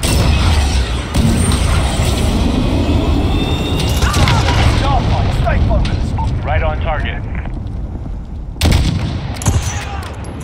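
A missile launch and explosion in Call of Duty Modern Warfare 2019 roar loud and continuous, with deep booms and rushing blast noise. Radio-style voice chatter runs over it, and a sharp burst hits near the end.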